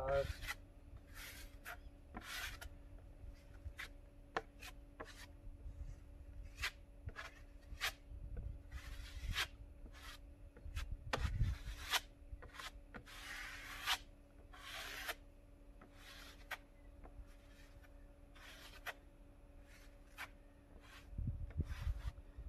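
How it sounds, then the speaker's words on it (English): Repeated scraping and smearing strokes of a metal knife spreading joint compound across a plasterboard wall, close by, in irregular bursts with a steady background hum. "get your compound on there like so"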